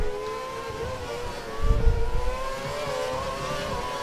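An F1 race car in the F1 2012 racing game accelerating at the Canadian Grand Prix, its high engine whine climbing steadily in pitch, with a brief low rumble swelling near the middle.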